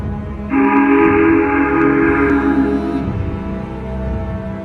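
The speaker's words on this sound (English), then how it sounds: "followed seconds later by a deep whistle he had never heard before" A deep, loud steam whistle blasts for a few seconds over low rumbling, then fades into a steady chugging rumble.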